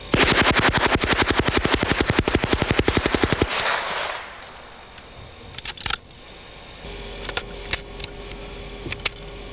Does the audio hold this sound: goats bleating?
no